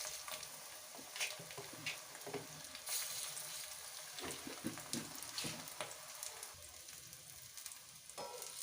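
Drumstick flower fritters sizzle in hot oil, a soft continuous crackle with scattered pops and occasional stirring, faint and close with no voice over it.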